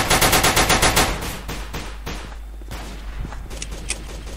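Weapons in the shooter game Combat Reloaded 2 fire a fast, loud machine-gun burst of about a dozen evenly spaced shots, then scattered single shots and fainter distant fire.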